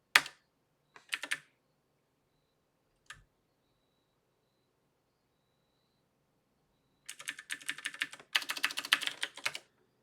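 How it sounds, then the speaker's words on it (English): Bursts of typing on a computer keyboard at a Linux machine, with a few short clicks early on, a long pause, then a dense run of rapid keystrokes near the end. "What are you typing right now?"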